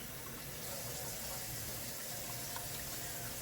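Water poured steadily into a pot of turkey and red bean chili with green tomatoes, a continuous even splashing rush of liquid lasting throughout, close and fairly loud, with no talking.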